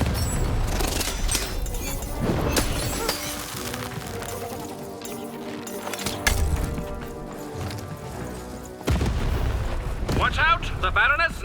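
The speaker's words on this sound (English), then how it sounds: "Shoot the button to fire the cannon." Cannon blasts and booming impacts in the video game Lost in Random, with several heavy explosive bursts and clinking debris over a continuous music and effects bed, loud and close.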